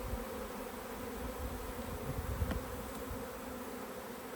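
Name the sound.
honey bees buzzing around a beehive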